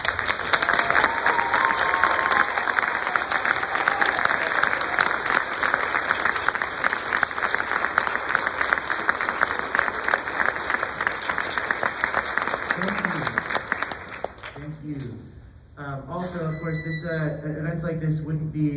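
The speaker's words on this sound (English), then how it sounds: "we can give them a round of applause" A crowd claps in loud, sustained applause for a school honor choir concert for most of the clip; it then dies away and a voice begins speaking.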